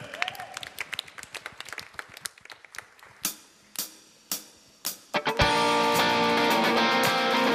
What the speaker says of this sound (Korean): 우리 그분 앞에 다시 한번 감사의 박수를 응원 올리십시다.